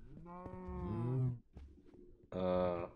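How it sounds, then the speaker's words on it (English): Mooshroom, the mushroom cow of Minecraft, lowing in two drawn-out moos separated by a short pause, close and clear with a little faint background noise. "there's some mushroom cow"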